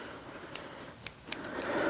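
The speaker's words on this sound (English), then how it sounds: "So now I just need to cut my yarn" Scissors cut through knitting yarn in a handful of quick, crisp snips spread across two seconds, close and fairly quiet with no talking.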